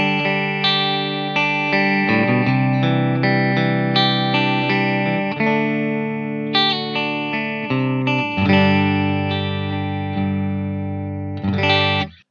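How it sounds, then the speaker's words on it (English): Clean electric guitar played through a Line 6 DL4 MkII with a Fender-style clean amp simulation, sounding a continuous strummed and picked chord passage with ringing sustained notes, loud and close throughout, ending in a final strum. "the ACS1 is set on a Fender style amp, which is completely clean, and it sounds like this"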